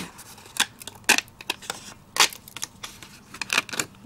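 Paper crackles and snaps in sharp irregular bursts as it is pulled out of a craft cutting die, close and clear with no talking.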